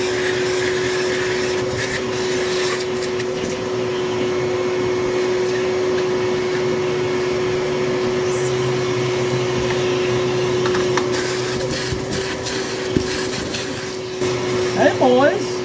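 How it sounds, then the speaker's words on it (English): A vacuum cleaner drones steadily and close by with a constant high whine, its pitch shifting slightly near the end as it works in the tight space under a 1981 Mercedes 300SD seat. "now I'm going to vacuum a little here under the seat"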